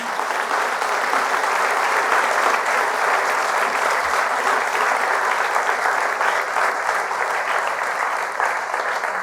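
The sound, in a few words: congregation applause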